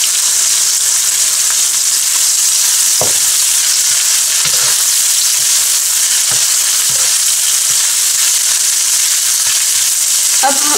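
Salted spice paste frying in a pan for karela gosht, a steady loud sizzle throughout with a few soft stirring scrapes and clicks, no voices.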